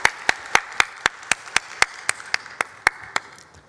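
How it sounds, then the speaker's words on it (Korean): A church congregation claps in a steady, evenly spaced rhythm, about a dozen sharp, distinct claps over a few seconds, moderately loud with no talk over them. "하나님께 영광의 박수 올려드리겠습니다."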